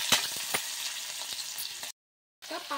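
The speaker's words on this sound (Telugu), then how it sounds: "అండ్ ఆనియన్, పచ్చిమిర్చి కూడా వేసుకొని కొంచెం చిల్లుతుంది, కొంచెం దూరంగా ఉండండి." Chopped onion and green chillies frying in hot oil for spinach chana dal rice, a steady sizzle with a few sharp crackles and stirring clicks, broken by a short silence near the end.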